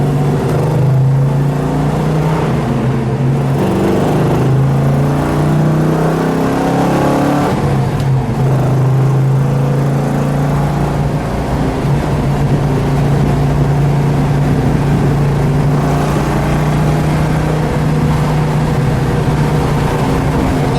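A 1969 Dodge Charger R/T with a 426 Hemi and four-speed, B5 Blue, revs and pulls while driving, its engine a loud, steady low rumble that swells and settles through gear changes and carries through the whole stretch with no talk.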